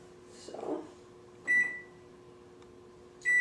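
A microwave oven hums quietly at close range, with two sharp electronic beeps ringing out about two seconds apart and a soft clunk early on.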